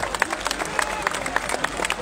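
A crowd at a large open-air religious gathering on a parade ground claps in a quick, steady burst of applause, moderately loud with a murmur of voices underneath.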